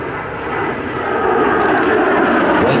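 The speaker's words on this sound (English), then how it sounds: "Here's the B-1B in the 360 overhead approach." B-1B Lancer bomber jet sweeping overhead on a 360 overhead landing approach at an air show, a loud broad roar building steadily in intensity.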